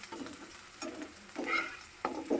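Radish greens are stirred and fried in a pan, with a steady sizzle broken by repeated, rhythmic scrapes and clacks of a spatula against the pan.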